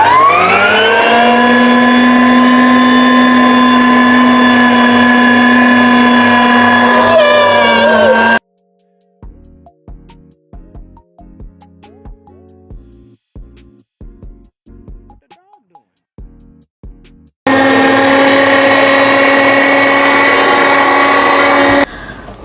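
Electric meat mincer grinding minced meat and bacon, a loud steady motor whine that runs for about eight seconds, stops for a stretch of quieter clattering handling sounds, then starts again near the end.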